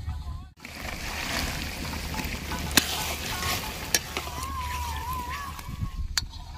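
Slit green chillies sizzling in a wok with raw tomato and ginger-garlic paste, a steady frying crackle with occasional stirring clinks and sharp ticks, close and continuous.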